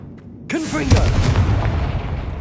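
A Confringo spell blast in Hogwarts Legacy: a sharp whooshing cast that bursts into a loud fiery explosion, followed by a rumbling, crackling decay over the next second or so.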